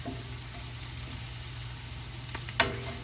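Stuffed okra, bharva bhindi, fries gently in a pan with a soft, steady sizzle, low and even throughout, with a couple of faint clinks near the end and no voices.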